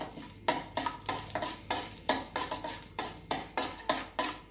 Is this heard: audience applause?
no